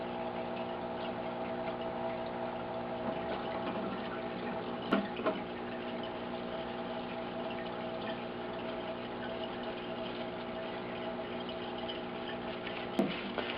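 Oil O-rings and springs from a 1976 Mazda RX-5 Cosmo rotary engine being rinsed in a parts washer, a steady pumped trickle of liquid with a constant hum, broken by two brief clinks of parts.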